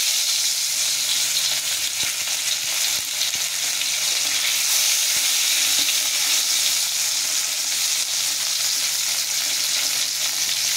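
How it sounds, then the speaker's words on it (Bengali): Fish frying in hot oil, a loud, dense, unbroken sizzle that holds steady and close throughout, with a couple of faint knocks and no voices. "এইবার মাছ ভাজা হবে।"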